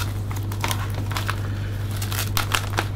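Folded cellophane for a gift bag being cut with scissors gives a close, steady crinkling and crackling with repeated sharp snips, over a constant low hum.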